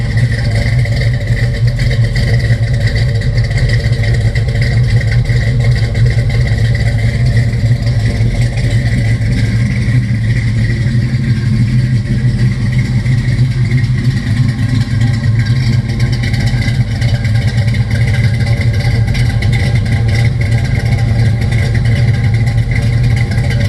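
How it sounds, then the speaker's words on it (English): A 1967 Chevelle Malibu's engine running, a loud steady low rumble close by with light clatter and mild revving, no talking. "Let me shut up for a minute and let you guys hear this car."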